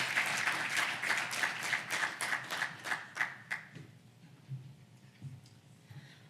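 Audience clapping at a student address event, dense broadband patter for a few seconds that thins out and stops, leaving a quiet room with faint scattered noises.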